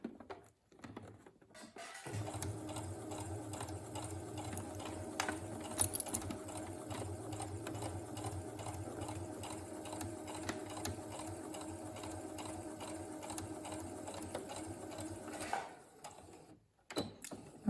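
A sewing machine runs steadily for about fourteen seconds while stitching piping, with a whirring, rapid mechanical chatter, starting and stopping with brief quiet gaps at either end.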